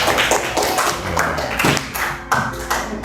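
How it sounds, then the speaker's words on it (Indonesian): Children in a classroom clap their hands together in a few quick bursts of sharp, close slaps, a brief round of applause with no talking. "Tepuk tangan semuanya."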